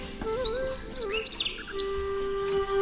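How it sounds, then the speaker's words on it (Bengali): Birds call in and around a newly built pigeon house, giving a string of short chirps and tweets at close range, with a longer sustained tone near the end. "এইবার এই জায়গায় পায়রা এখানে বসে আছে"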